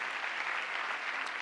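An audience claps loudly for a group of digital learning coaches at a school district welcome-back event, steady dense applause filling the hall without any voices.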